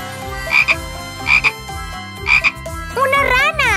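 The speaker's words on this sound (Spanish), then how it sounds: "¡Una rana!" A cartoon frog croaks three times in even, punchy bursts, loud and close over a bouncy music bed, followed by a wobbling, voice-like squeal at the end.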